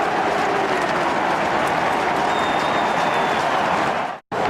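Huge stadium crowd at the 2015 AFL Grand Final between West Coast and Hawthorn roaring and applauding a goal, a dense, loud, sustained wash of cheering and clapping that cuts off abruptly near the end.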